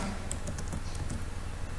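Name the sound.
typing a program on a computer keyboard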